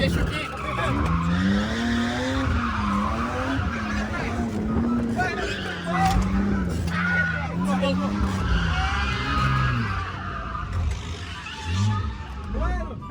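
A car drifts with its tires skidding and squealing. Engine drone and wavering tire screech run under excited voices of people talking and shouting inside the car.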